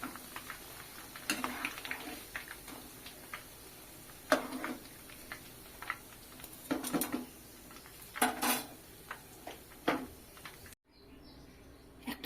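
Crispy deep-fried onion pakoras are lifted and dropped onto a plate, giving sparse, light clicks and crunchy taps against the plate, close and quiet with gaps between.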